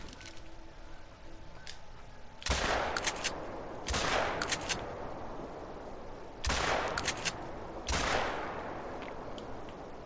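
Gunfire from the hunting video game theHunter: Call of the Wild, shooting rabbits in the Hirschfelden reserve: four loud, sharp shot bursts spaced a couple of seconds apart, some with rapid double cracks, each trailing off in a decaying echo.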